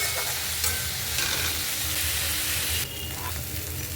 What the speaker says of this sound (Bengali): তারপর ভালো করে এদিক ওদিক নেড়ে চেড়ে নিতে হবে।